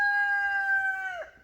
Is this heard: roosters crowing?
yes